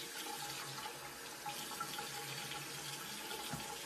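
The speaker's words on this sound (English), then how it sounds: "we're going to wet the area of the stain with some warm water" Warm tap water runs in a steady, gentle stream as it wets a grease stain on a silk tank top, quiet and continuous with no talking.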